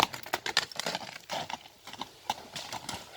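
Hooves of a purebred black stallion, a young horse used in buzkashi, clip-clop in quick irregular beats on the ground, close and fairly loud.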